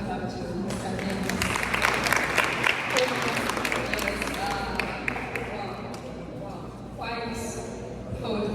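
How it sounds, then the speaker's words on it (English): An audience at a Ugandan community HIV/AIDS stigma conference in Canada applauds for speaker Mr. Dennis Wamala, moderately loud clapping with a voice speaking over it, tapering off near the end. "Let's give a hand clap to Mr. Dennis."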